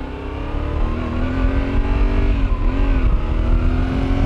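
A Yamaha Tenere 700 motorcycle engine pulls hard in a short first gear, its loud, close drone climbing steadily in pitch with a brief dip and recovery partway through, with no talking.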